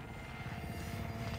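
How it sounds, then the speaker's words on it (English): Friendly support helicopter arriving in Call of Duty Modern Warfare, a faint low rotor thump and engine drone with rapid pulsing blade beats, steady over the short stretch. "Friendly support helo inbound."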